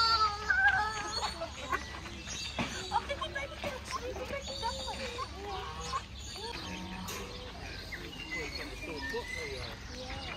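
A hen clucks softly as chicks peep and chirp nearby, with other birds calling in the background and a person talking over them.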